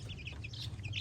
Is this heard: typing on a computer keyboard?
no